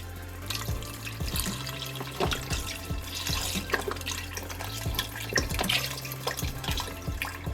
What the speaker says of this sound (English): we're gonna take some beef broth and drop that in until the meat is completely submerged